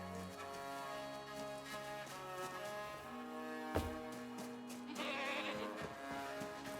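A goat bleats in the video game REKA, one brief sharp cry mid-way over a steady bed of layered ambient game music and tones, no talking.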